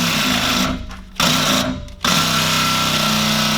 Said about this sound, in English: I'm going to throw a flap disc on and just clean this surface up really good